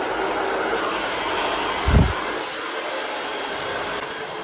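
A hair dryer blows warm air onto hair during an at-home keratin treatment, a loud steady whoosh with one brief low thump partway through.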